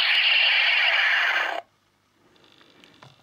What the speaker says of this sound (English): it still has some kind of a Star Wars lightsaber noise